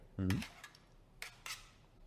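Spoons clink and scrape against a plate while peeling skin off cooked salt cod, a sharp ringing tap at the start followed by two brief scraping strokes, close and quiet.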